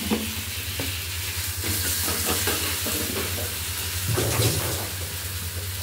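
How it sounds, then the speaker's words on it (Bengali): Spice paste fries in a pan while being stirred steadily, producing a dense, close sizzle with rhythmic scraping strokes throughout. "মশলা প্রায় আমার ভাজা হয়ে গেছে"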